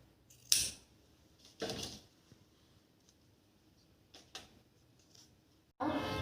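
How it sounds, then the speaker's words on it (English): Scissors snip adhesive tape for a finger bandage in a few separate, sharp cuts spaced seconds apart, with quiet rustling between them and a final longer sound at the end. "firstly cut the adhesive tape"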